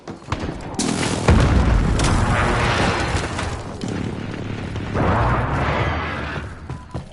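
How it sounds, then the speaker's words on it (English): Loud, booming explosions from a precision airstrike in the Call of Duty video game rumble in heavy, sustained waves, swelling twice across the stretch with deep low-end thunder. "Enemy precision airstrike. Inbound. Take cover."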